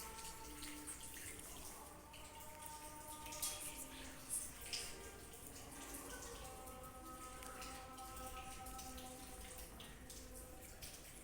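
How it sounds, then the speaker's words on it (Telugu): Rain falling outdoors on a July day, a steady soft patter with scattered drips, moderately distant and continuous throughout, with faint background tones and no clear talk. "వర్షం ఇప్పుడే పడుతుంది"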